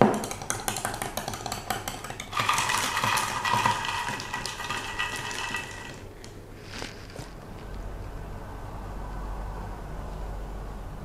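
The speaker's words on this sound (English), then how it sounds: "So this is our vanilla Americano stir." A spoon clinks rapidly against the inside of a cup while stirring a vanilla Americano, close and bright, then stops, leaving a low background hum.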